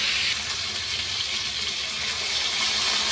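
Water pours into a pan of sautéing vegetables for a kuruma, producing a continuous, even gushing hiss that stays steady from start to end without any voices.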